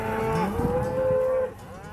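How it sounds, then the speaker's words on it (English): Cattle grazing on the grassy Argentine pampas let out a loud, drawn-out moo close by, a single sustained low call that ends abruptly, with another faint lowing voice overlapping it. "I'm amongst grazing cattle, where the famous beef is reared on the pampas grass plains."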